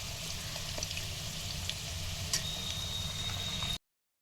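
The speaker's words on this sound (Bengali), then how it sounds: "এদিকে আলুটা ভাজছি তো" Potatoes frying in a pan give a steady, close sizzle with faint ticking crackles, continuous and even until it stops abruptly near the end.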